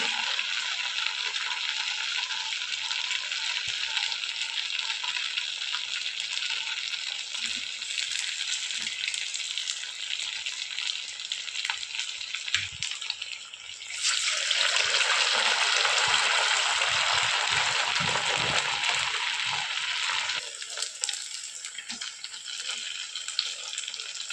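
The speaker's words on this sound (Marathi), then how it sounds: "वडे आपण तळून घेऊया मीडियम फ्लेमवरती आपल्याला सर्व वडे तळून घ्यायचे आहे" Sabudana vadas deep-fry in hot oil over a medium flame, giving a continuous loud bubbling sizzle that swells into a stronger burst midway, then settles back to a steady hiss.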